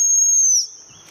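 A single shrill, steady dog training whistle blast at a gundog event with English Springer Spaniels, high-pitched and piercing, held for about half a second before cutting off, with faint outdoor noise after.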